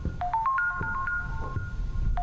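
A phone rings inside a house in a horror video game, a melodic electronic ringtone of rising and falling tones heard at moderate volume, with the tune starting over near the end.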